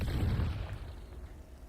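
In the Hogwarts Legacy video game, a Confringo blasting spell goes off as a muffled low boom that swells briefly and then fades into a soft rumbling tail, with no other sounds over it.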